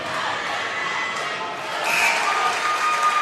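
A crowd at a high school boys basketball game roars and cheers steadily in a gym, and the noise swells louder partway through.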